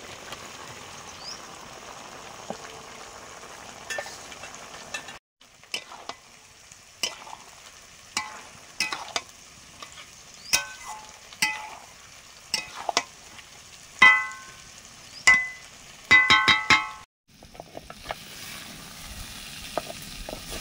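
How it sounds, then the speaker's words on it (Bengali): Okra and vegetable stems frying in a pan, a steady sizzle broken by repeated sharp scrapes and clatters of a spatula stirring, with a few louder metallic knocks near the end. "ঢ্যাঁড়সটা অনেকটাই ভাজা আছে, এবং ডাঁটাগুলো একটু রান্না করার পরে দিচ্ছি"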